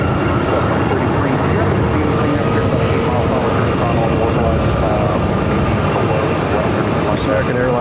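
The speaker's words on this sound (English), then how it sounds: "This American Airlines flight came in from Newark on this A321neo." An American Airlines Airbus A321neo jet airliner arriving at Phoenix Sky Harbor, a loud, steady broadband engine roar that holds for the whole stretch, with radio chatter from air traffic control underneath.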